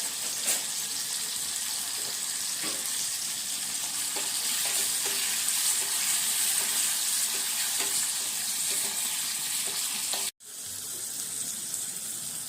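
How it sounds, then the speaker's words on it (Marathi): Kokum (amsul) frying in hot oil gives a steady, dense sizzle that runs for several seconds with faint clicks, cutting out abruptly for a moment near the end before resuming. "म्हणून आमसूल तेलात तळून घालायचं"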